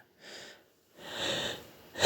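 A Ukrainian bedtime storyteller imitates heavy, laboured breathing with two wheezy breaths separated by a short pause, followed by a sharp louder burst at the end.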